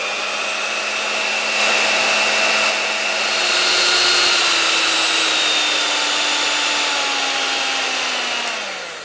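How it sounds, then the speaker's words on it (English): An electric mixer whips three eggs with about 150 to 160 grams of sugar for brownie batter. Its loud, steady whine continues throughout, its pitch drifting slowly downward toward the end as it winds down, with no talking. "you whip up your eggs and you whip up your sugar till it gets nice and creamy"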